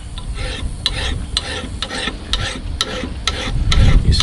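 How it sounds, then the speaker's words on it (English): A hand file dragged in repeated strokes along an axe blade's edge at a shallow angle, loud gritty rasping close by, steady and unaccompanied by speech. "Come in here about 25 degrees. File. Just keep filing."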